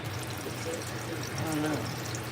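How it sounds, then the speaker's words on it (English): Water is poured into a pan of frying, greasy meat, making a steady splashing hiss under a person's nearby voice. "maybe if I put a little bit of water in there, that water will drain that grease out"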